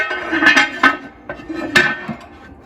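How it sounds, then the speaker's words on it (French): A lid clinks onto a heavy cooking pot holding chicken, several sharp metallic knocks and rattles at close range, spaced unevenly with short quiet gaps between them. "Alors, j'ajoute le couvercle pour la cuisson entièrement, jamais à découvert."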